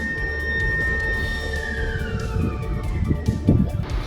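Wailing siren of a fire brigade vehicle answering a hotel fire in Chhatrapati Sambhajinagar, Maharashtra, a loud sweeping tone over rumbling traffic and crowd noise.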